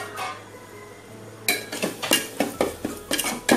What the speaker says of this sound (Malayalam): 5 മിനിറ്റ് അടച്ചു വെച്ചതിന് ശേഷം നമുക്കിത് തുറന്നിളക്കി കൊടുക്കാം